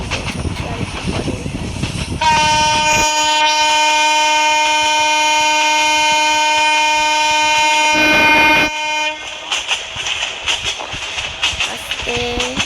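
In a Bangladesh train simulator game, a train nears a station with rumbling running noise, then a long, loud, steady horn blast lasting several seconds before the rolling rail sound returns.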